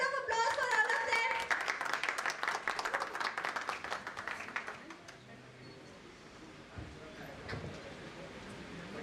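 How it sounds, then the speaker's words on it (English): Audience applause for performers at an office innovation event, a dense burst of clapping with cheering voices in the opening seconds that thins and fades to quiet murmuring, moderately distant. "give a huge round of applause for all of them"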